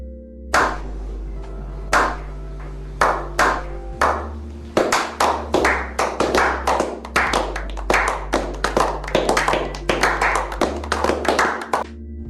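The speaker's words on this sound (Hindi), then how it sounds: "एक बार अपने आप के लिए आप लोग तालियां बजा लीजिए" Hand claps from an audience at a talk on pollution in India, starting as scattered single claps and building into dense, continuous applause that is close and loud, with no talking over it.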